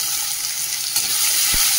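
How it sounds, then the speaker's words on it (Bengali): Onion, potato and mixed vegetables fry in a pan with ginger, giving a steady, even sizzle throughout with one brief low knock near the end. "এটাকে সবজিটা তো ভাজছি"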